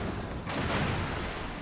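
A destroyer's guns fire in World of Warships, a single muffled boom rising partway through and rolling off under a low background rumble.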